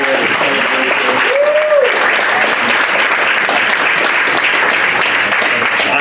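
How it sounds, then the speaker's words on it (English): Graduation luncheon audience applauding the graduates, a dense, steady wash of clapping that stays loud and close for the whole stretch, with a brief tonal whistle rising over it early on. "Can we give them a wonderful applause?"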